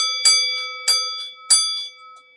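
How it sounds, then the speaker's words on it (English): Small hand bells ring out three times in an even rhythm, bright and close, each strike decaying quickly with no talk over them. "I'll give you a couple bells too."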